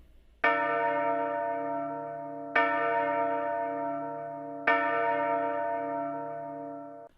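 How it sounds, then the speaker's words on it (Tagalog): An old church bell tolls three times at an even, unhurried pace, each loud, resonant strike ringing out with a long humming decay before the next. "isang malakas na tunog ng kampana ang umalingaw-ngaw"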